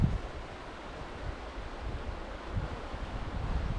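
River water flows steadily through a canyon, a broad, soft rushing wash with some wind buffeting on the microphone, fairly quiet and continuous with no voices.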